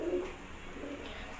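A soft, low coo from a male pigeon, brief and muffled, over a quiet hum of background noise.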